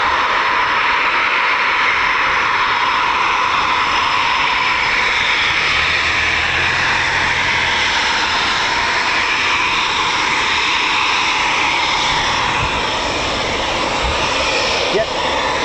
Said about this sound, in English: Should be the Italian Typhoon, the F-2000A I think it is